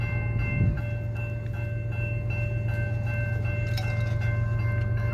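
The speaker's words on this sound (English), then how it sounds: "First time in a very long time catching a train at County Farm though." A freight train rolls through a crossing on County Farm Road near Murfreesboro, Tennessee, giving a steady low rumble with sustained tonal crossing-bell or horn lines and a brief clunk near the start, heard at moderate distance with no talk.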